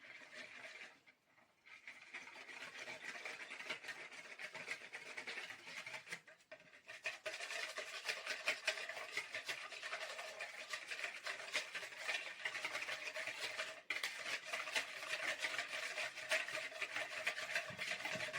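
Continuous soft scraping and rubbing of a spoon stirring yeast dough mixture with pressed yeast and sugar in a bowl, steady and close with a brief pause early on.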